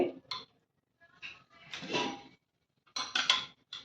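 Boiled potatoes lifted from a pressure cooker pot onto a plate in a home kitchen, heard as several bursts of clattering utensil and dish contact separated by short pauses, close and moderately loud, with no talking.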